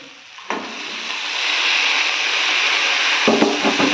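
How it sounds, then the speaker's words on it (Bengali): Chili powder and spices frying in hot oil, a steady soft sizzle with a clatter as something drops in early and another stir or addition near the end. "তো দিয়ে তেলটার সাথে ভালোভাবে ভেজে নিচ্ছি।"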